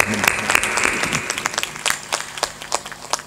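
A crowd at a satsang gathering in Serkhi Bhimpura, Gujarat claps, starting as a thick wash of applause that thins into scattered, separate claps. A brief voice is heard at the very start.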